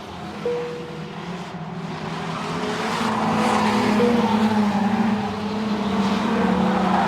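Speedway race cars circling a dirt track during a 47-lap memorial feature at Cullen Bullen, engines blending into a steady, loud roar that swells as the pack passes, with no voices present.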